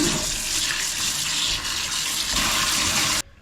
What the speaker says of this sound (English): Going to give them a quick rinse.